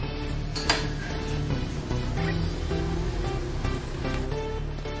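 Milk heating in a pan for diet paneer comes to a boil, giving a steady rushing, bubbling hiss with a few faint light clinks and ticks throughout.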